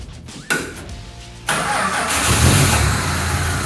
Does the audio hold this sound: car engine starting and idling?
yes